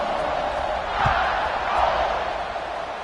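Football stadium crowd during a college game between A&M and Alabama, a broad steady roar of many voices swelling briefly, heard from a distance as a continuous wash with no clear words.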